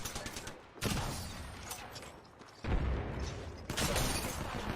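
Gunfire in the video game Apex Legends comes as dense bursts of rapid automatic shots in loud sustained volleys, broken by brief pauses between them.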